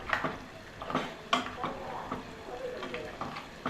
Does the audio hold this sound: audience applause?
no